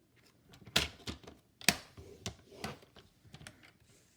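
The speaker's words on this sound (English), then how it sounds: "Reminding myself to use the score blade and not the cutting blade." A paper trimmer's score blade runs along cardstock for gift tags, giving a few distinct close clicks and soft scraping strokes in a quiet room, several sharp snaps spaced unevenly.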